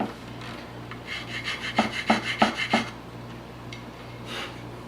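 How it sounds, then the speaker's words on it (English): A hand rasp files the wooden stock of a Winchester 1895 rifle during restoration, a quick run of about six rough scraping strokes in the middle, with a faint rub near the end and a steady low hum beneath. "I'm just going to use my rasp to only touch the areas in question."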